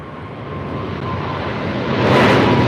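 An airliner taxiing at LAX gives a loud, steady jet engine roar that swells and grows a hissing whine toward the end, heard close by and with no voices.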